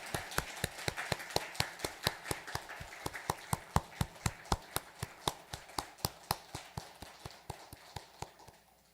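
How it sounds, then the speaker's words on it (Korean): Church congregation at a Wednesday prayer meeting clapping in encouragement, a steady rhythmic run of sharp claps repeated about every quarter second for nine seconds, fairly faint and roomy, fading toward the end. "우리 다시 한번 격려의 박수 하겠습니다."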